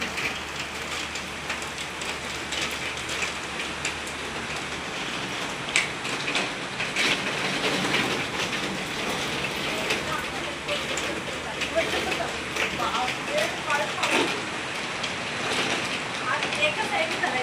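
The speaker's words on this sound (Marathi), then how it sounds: "खूप पाऊस आहे." Heavy rain pours steadily near Shankar Maharaj Math, a dense, loud hiss of drops striking surfaces that runs throughout without pause.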